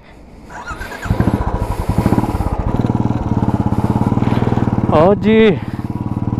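A Royal Enfield Classic 350 motorcycle with an aftermarket replica exhaust idles close by, its single-cylinder engine giving a steady, loud, rapid thumping beat, while someone speaks briefly over it.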